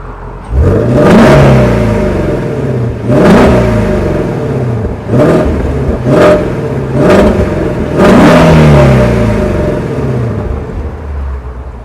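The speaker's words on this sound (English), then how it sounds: "are y'all ready to listen to 526 horsepower, 429 foot-pounds of torque of sound coming out of the back of this exhaust?" A 2018 Ford Mustang Shelby GT350's powerful V8 exhaust revs repeatedly, several loud throttle blips rising and falling with a deep burbling idle between them, close and alone.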